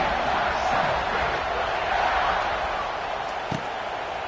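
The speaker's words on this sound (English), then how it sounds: "this crowd is buzzing after that last score" Crowd buzzing in a college football video game: a steady, dense stadium roar that stays loud and even throughout, with one brief thump near the end.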